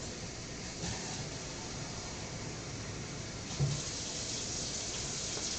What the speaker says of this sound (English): I'm going to rinse out the bottles and